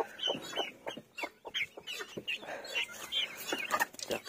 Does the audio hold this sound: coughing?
no